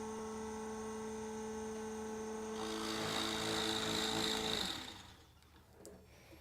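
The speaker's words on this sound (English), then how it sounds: "When I drill the hole, the machine is smart enough that when it gets to the right depth" A Nova 18-inch DVR drill press hums steadily, then a louder drilling whir rises as the bit cuts, before winding down and stopping automatically at the set depth.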